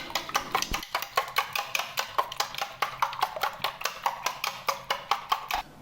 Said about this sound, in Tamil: நல்லா பீட் பண்ணிக்கோங்க.